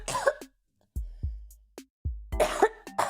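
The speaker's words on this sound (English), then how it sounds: "And I still have a cough, and I'm still coughing up the occasional loogies." Several harsh coughs from a person with a lingering cough, some in quick pairs, with short bursts of throat clearing between them. All are close and loud, with short silent gaps in between and no speech.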